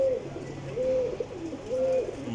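Pigeons kept by a fancier coo softly nearby, three rolling coos repeating in an even rhythm over a quiet background.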